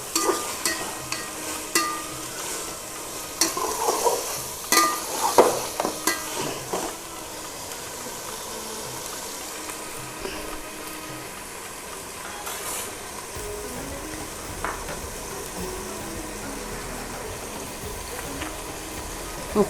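Mutton pieces cooking in hot oil while being stirred in a pan, with a soft continuous sizzle and scraping stir strokes that are busier at first, then settle into a steady low fry.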